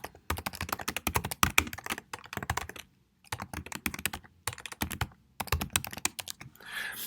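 Typing on a computer keyboard while sharing a post to a Google Classroom stream, steady bursts of close, crisp key clicks broken by short pauses, with no talking.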